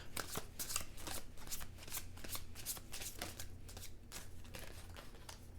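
Tarot cards from a Renaissance-style deck being shuffled by hand, a steady run of close riffling flutters and soft card slaps with no talking over it.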